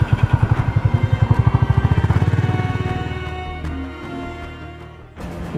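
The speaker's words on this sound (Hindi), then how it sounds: "तेरे लिए नई बाइक लेके आया हूँ, नई है वो भी 350 सीसी।" A new 350cc motorcycle engine thumps in a fast, even rhythm, loud and close at first, then slowly fades and smooths out as it pulls away.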